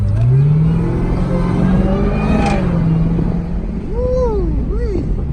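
A 2018 Jeep Grand Cherokee Trackhawk with a Borla ATAK exhaust accelerates, its engine droning loudly and rising in pitch from inside the cabin, followed by faint tire or whine tones near the end.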